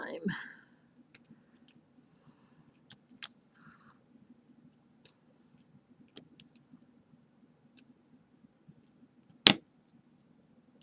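Sparse, small clicks of a diamond painting pen setting drills, light and irregular against a quiet background hum, with one sharper louder tap near the end.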